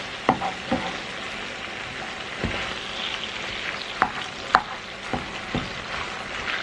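Beef frying in a pan while cooking beef and broccoli: a constant soft sizzle is broken by sharp, scattered clicks and taps from stirring.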